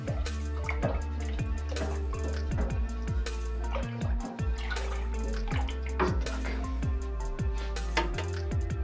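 Liquid pours slowly into a container while honey is being dissolved, with irregular drips and splashes and a soft gurgle throughout, close and clear with no talking.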